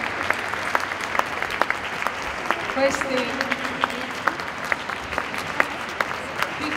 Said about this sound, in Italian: mentre li accompagniamo con un grande applauso fuori dal palcoscenico